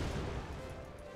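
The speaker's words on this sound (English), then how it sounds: "a cannon shot at us" Cannon shot in the video game Yooka-Laylee: a loud, booming blast that fills the short moment and then slowly fades, with no talking over it.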